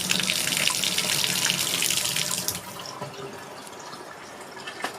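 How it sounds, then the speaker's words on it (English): Water running from a newly installed bathtub spout during a home renovation, a steady hiss of flow that drops to a lighter trickle and splash partway through, with no voices. "So we also got a tub spout. This one works better."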